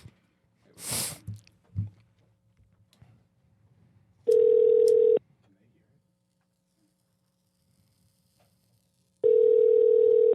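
Two bursts of a steady telephone tone, each about a second long and several seconds apart, with a sharp sniff and brief noises before the first, in an otherwise quiet room.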